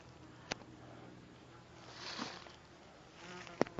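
Honeybees buzz near a hive beside a fallen hickory tree outdoors, a faint, steady hum with drifting swells and a few sharp clicks, no talk over it.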